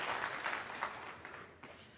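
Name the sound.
snooker crowd applause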